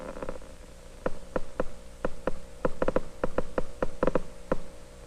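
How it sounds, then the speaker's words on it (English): The amplified flow of elementary charges in a very weak electric current, from a 1960 laboratory demonstration, comes through as sharp, irregular clicks, about two or three per second, over a faint steady hum. "You hear the amplified sound of the elementary charges in this very weak current."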